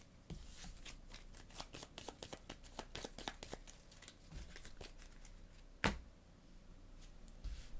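Game cards for the board game Leviathan Wilds being shuffled up close, a quick run of soft riffling flicks and taps followed by one sharper snap.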